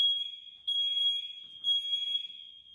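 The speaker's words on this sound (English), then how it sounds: "they're testing the fire alarm" A fire alarm under test in a building sounds a piercing, steady electronic tone in three bursts, the first one long and the next two separated by brief dips. There is no talking.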